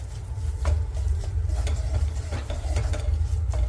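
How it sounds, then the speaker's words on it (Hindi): Wheat flour stirred and roasted in a pan over a low flame: repeated soft scraping strokes of the spoon against the pan over a steady low hum, close by, with no voices. "अब इस आटे को हमें भूनना है लो फ्लेम पर"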